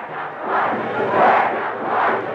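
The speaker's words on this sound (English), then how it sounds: "thousands of cheering fans who greeted the Dolphins at the Miami airport on the day after" Thousands of Miami Dolphins fans cheering at the Miami airport, a dense roar of shouting voices that rises and falls in waves, loud and sustained.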